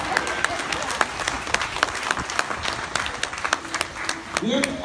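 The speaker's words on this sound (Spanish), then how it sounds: "Un fuerte aplauso para ellos." An audience at an aquarium marine-animal show in Veracruz applauds steadily, a dense crowd clapping with scattered louder claps, while a presenter's voice continues over it.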